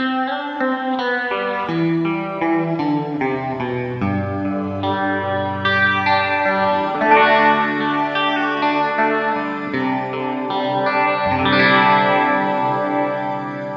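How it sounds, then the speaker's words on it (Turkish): An electric guitar played through its built-in effects processor rings out in sustained, layered chords washed in shimmering, echoing reverb and chorus, loud and continuous with no talking. "Shimmer gibi reverb'leri duyabiliyoruz."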